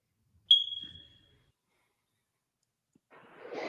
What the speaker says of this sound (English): somebody's fire alarm's beeping.